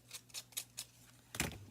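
Scissors rasping against craft paper to rough it up, a series of four short scratchy strokes followed by a louder crinkling burst, close and fairly quiet.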